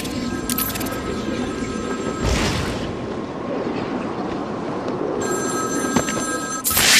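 A telephone in the Batman Arkham City video game rings in repeated metallic bursts, an early pair and a later pair, loud and close over a low rumbling background.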